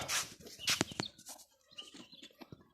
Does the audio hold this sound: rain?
no